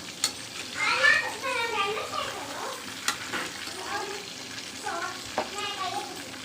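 Quail pieces sizzle and fry in a pan as they are stirred and flipped, with soft scraping clinks and bubbling under a voice talking nearby.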